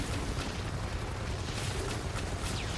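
A loud arc mortar cannon explosion from the video game Firefall, heard as a sustained, heavy rumbling blast with a deep low-end roar that fills the whole moment.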